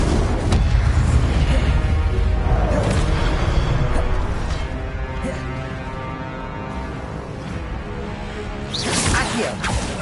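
An Incendio fire spell cast in a video game, a burst of booming, whooshing energy at the start that settles into a roaring rumble, with another swelling whoosh near the end.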